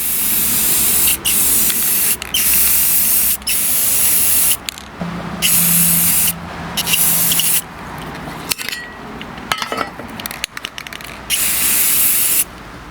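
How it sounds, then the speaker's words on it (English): Repeated loud bursts of spray paint hissing from a can onto a weld on a riding mower deck, several seconds each with short pauses between, close up. "What I always do at the end is spray paint the weld."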